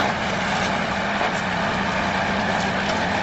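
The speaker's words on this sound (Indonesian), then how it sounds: "Oh, truk muatan mobil ya?" A car carrier truck drives past with a steady, loud, dense engine and road roar, no gaps across the whole stretch and no talk over it.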